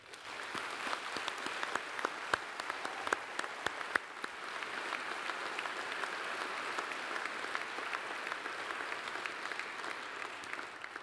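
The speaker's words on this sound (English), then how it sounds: "please help me in applauding today's graduates" Audience at a 2011 FBA graduation ceremony applauds the graduates, a steady, dense wash of clapping with a few sharp nearby claps standing out, sustained evenly for about eleven seconds without talk.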